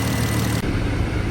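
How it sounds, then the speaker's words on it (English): A car engine, a B-series four- or six-cylinder, revs steadily at about 2,000 RPM after an oil filter housing replacement. A continuous, loud, close drone holds level with a brief dip midway. "now we're just revving it up"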